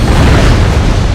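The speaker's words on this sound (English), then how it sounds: "Another car hits a truck, which causes a huge explosion." A car explosion in a Final Destination movie, staged as a highway pileup where a car hits a truck, comes through as a loud, dense, sustained rumbling boom that fills the whole moment.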